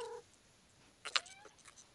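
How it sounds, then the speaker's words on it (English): A house cat meows briefly twice, a short cry at the start and a sharper, louder one near the middle, faint and close in an otherwise quiet room. "My cat's here visiting me, if you hear meowing."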